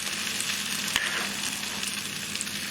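Onions sizzling steadily in a hot pan for a salt and pepper chicken wings dish, a continuous close crackle with a brief stir clatter near the start and no talking.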